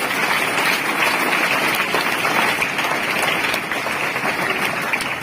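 An audience applauds for a sir being called up to present a prize at a motivational speech event, with dense, steady clapping sustained at an even level throughout.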